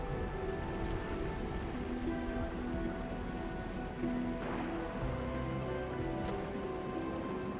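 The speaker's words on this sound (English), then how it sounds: "It's raining harder. I can't hear anything except for the rain." Heavy rain pours steadily in a game scene, a dense continuous patter of drops on surfaces, low and even throughout, with faint tonal background music underneath.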